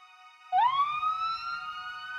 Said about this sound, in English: The sound of sirens filled the air.